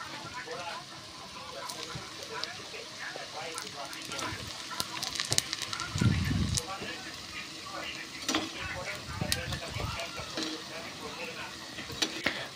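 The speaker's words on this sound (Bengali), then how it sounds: "এবার আমি গরম তেলের মধ্যে দিয়ে দিব" Potato chops (alur chop) slipped one by one into hot oil, giving a steady close sizzle and crackle with occasional stirring and clinks of a pan, no talk.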